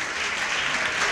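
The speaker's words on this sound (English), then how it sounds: "So can we have a huge round of applause for all the women here?" Dense, even applause from the audience at a charity fashion show and documentary launch, a continuous wash of many hands clapping, briefly heard and without talk.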